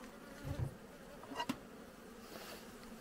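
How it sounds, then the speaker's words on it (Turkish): A soft, steady buzzing of somewhat aggressive Caucasian honey bees at an apiary during autumn hive care hums in the background, broken by a couple of brief, louder bumps. "Bu arı biraz agresif."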